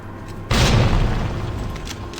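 A single heavy shotgun blast from an M3 shotgun in the video game Resident Evil 3 booms in suddenly after a quiet start, then leaves a long rumbling decay.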